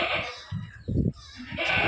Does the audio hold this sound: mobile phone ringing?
no